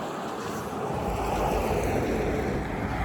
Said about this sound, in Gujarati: જો બહારનું વાતાવરણ થોડું પવન પણ ચાલશે